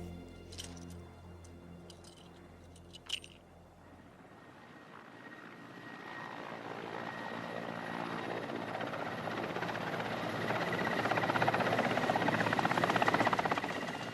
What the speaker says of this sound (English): to the relative safety of a helicopter hovering